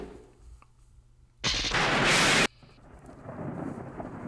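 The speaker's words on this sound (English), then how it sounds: "Lightning and thunder struck like an explosion." Thunder sound effect from the horror visual novel Higurashi When They Cry: a sudden, very loud explosive crack and roar lasting about a second, which cuts off abruptly and leaves a softer rumble of rain and storm noise behind it.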